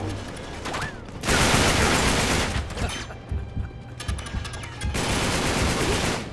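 Sustained automatic gunfire from enemies in the video game Uncharted: Drake's Deception, loud rattling bursts separated by brief pauses, with a voice talking faintly underneath.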